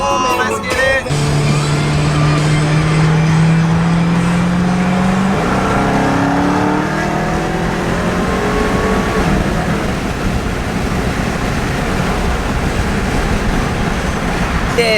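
A Dodge Hellcat's engine revs loud and close, a strong rising tone climbing steadily for several seconds before breaking into a sustained rough roar that runs on to the end.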